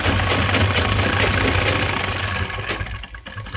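Sewing machine stitching pant fabric, a loud, steady mechanical whir with a rapid rhythmic knocking that eases slightly toward the end, with no talk.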